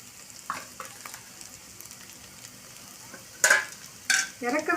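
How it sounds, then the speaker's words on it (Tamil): Ivy gourd (kovakkai) sautés in a generous amount of oil, with a faint steady sizzle under occasional stirring scrapes. Louder bursts of frying and pan noise come near the end. "கொஞ்சம் எண்ணெய் கொஞ்சம் அதிகமாக ஊற்றிக்கிங்க, அப்போ தான் நல்லா சுருள வதக்க முடியும்"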